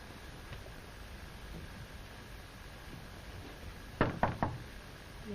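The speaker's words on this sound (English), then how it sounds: "Well, I'll knock anyway." A quick burst of three or four knocks on a house door at night breaks a faint hissy room background, near and moderately loud, with no talking.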